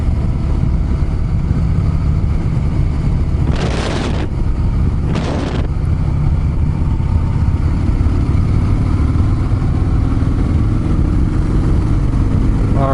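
Steady, loud engine rumble and wind roar from a Harley-Davidson motorcycle cruising a Hawaii highway, continuous throughout with two brief bursts of wind buffeting partway through.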